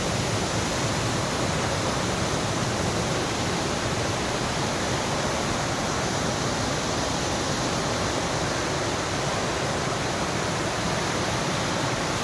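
Water at the Sontirth Kund waterfall on the Kukadi river pours from one rock pool into another beneath a natural bridge, giving a dense, unbroken rushing roar that fills the scene without pause.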